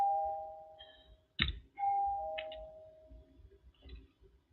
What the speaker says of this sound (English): I swear I don't know why this doorbell keeps ringing like this.